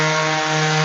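Steady, unbroken whir of a power sander working across wooden egg holders in a woodshop, loud and close with a constant droning hum and no pauses or voices.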